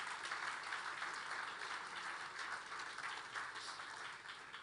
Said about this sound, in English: immense applaudissement pour vous tous ici